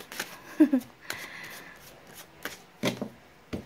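Tarot cards being shuffled, a few soft papery riffles and taps, quiet and close, with brief pauses between the bursts.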